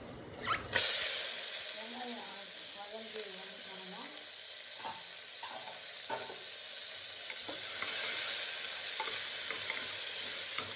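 Broad beans sauté in a pressure cooker with the lid off, giving a steady bright sizzle from start to finish, with soft scraping and clinks as a spoon stirs them.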